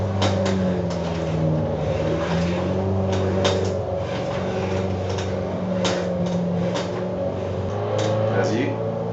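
The car engine of a snow-driving simulator drones steadily, a constant loud tonal hum that rises slightly in pitch, with a voice talking over it.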